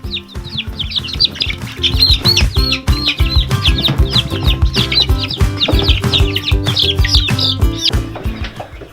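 Small bantam chicken clucking and chirping repeatedly, with busy rustling and scratching close by, continuous and fairly loud with no talking.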